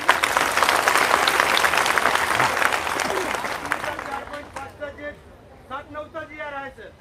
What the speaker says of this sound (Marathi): अजून एकदा टाळ्या वाजवा